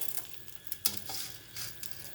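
Urad and chana dal sizzling in hot oil as a tempering for a raw mango and coconut chutney, a faint crackle with a few quick pan clinks and stirring taps over a couple of seconds.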